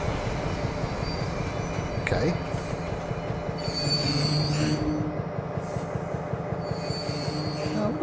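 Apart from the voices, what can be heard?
train stopping in the video game Trainz Railroad Simulator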